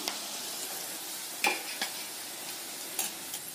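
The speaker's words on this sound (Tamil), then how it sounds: "இந்த மாதிரி எண்ணெயில பொரிச்சு எடுக்கணுங்க." Ivy gourd slices fry in hot oil with a steady, soft hiss and sizzle, broken by a few louder clinks or stirring strokes, close by with no talking.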